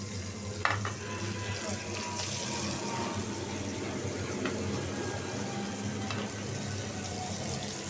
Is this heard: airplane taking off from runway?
no